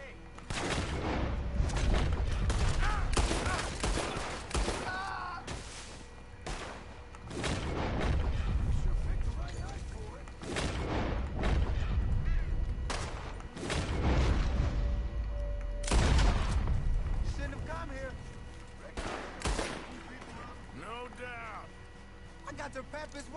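Red Dead Redemption 2 gunfight in Saint Denis: repeated loud gunshots crack out irregularly, some in quick bursts and some spaced apart, while voices talk and shout between the shots.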